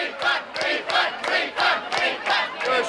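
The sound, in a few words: concert audience booing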